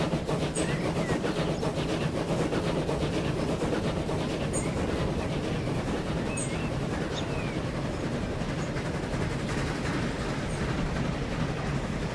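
A steady, low rolling train hum from the video game Transport Fever 2, with faint rhythmic rumble and occasional light clicks, constant throughout at moderate volume.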